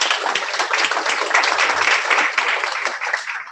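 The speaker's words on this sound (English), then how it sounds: "Let's give a round of applause for the panel." An audience at a security, stability, safety and resilience panel event applauds the panel, a dense, steady wash of clapping that fills the whole moment close and fairly loud.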